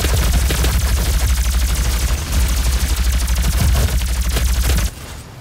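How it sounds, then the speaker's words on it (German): Rapid, sustained machine gun fire from the Doom beta video game: a dense, steady rattle of loud shots for about five seconds that stops abruptly near the end. "das ist jetzt das andere Maschinengewehr"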